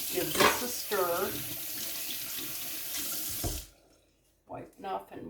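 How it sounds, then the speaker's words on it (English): Hands washed under a running kitchen tap in a sink, a loud close gush of water for several seconds that stops abruptly, followed by someone speaking briefly. "washing up my hands"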